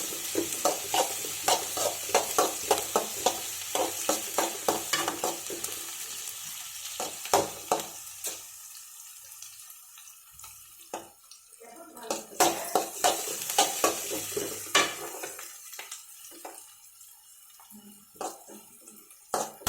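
Finely chopped large onion frying in a pan with ginger and garlic for a simple pasta, under a continuous sizzle. Quick rhythmic stirring clicks come in bursts, pause, then resume, all close up.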